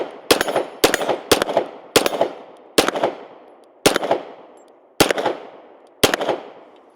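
A Beretta 92X pistol fires supersonic rounds, eight sharp, loud reports spaced about a second apart, each cracking hard and ringing out in a short decaying echo outdoors.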